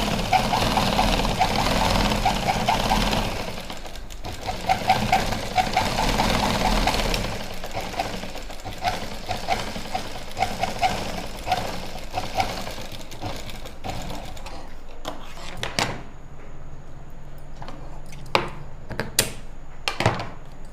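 A sewing machine stitches along the edge of lined pants in a long continuous run, then stops, leaving scattered clicks and handling knocks of the fabric and machine.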